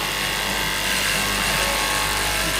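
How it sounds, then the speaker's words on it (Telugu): A large cloth cutting machine slicing through stacked layers of shirt fabric in a Hyderabad shirt factory, a steady loud whirring drone with a grinding edge, continuous and close. "మీరు చూడొచ్చు ఎంత పెద్ద కటింగ్ మెషిన్ ఉంది అది."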